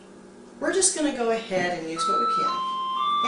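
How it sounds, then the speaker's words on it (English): A telephone rings in a home office during a talk about replacing windows. Someone speaks over the start of it, then electronic ring tones sound alone for a couple of seconds. "And that's the phone."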